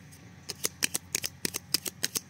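A brand-new Bélline card deck is shuffled with a series of crisp, rapid riffles and snaps, close and alone, each burst short and sharp in an uneven rhythm.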